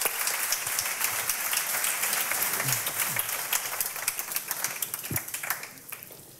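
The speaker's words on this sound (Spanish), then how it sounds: "nuestros compañeros de mesa se han ganado un aplauso" Audience applause for panel speakers at a conference forum, a steady wash of many hands clapping throughout, with a few sharper individual claps standing out near the end.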